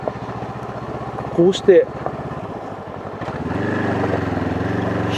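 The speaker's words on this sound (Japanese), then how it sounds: "このエンジンは180度クランクを採用している並列2気筒エンジンですが" A Honda CL500 180-degree-crank parallel-twin motorcycle engine runs steadily in the background with a throbbing, even pulse, rising slightly in pitch near the end while someone talks over it.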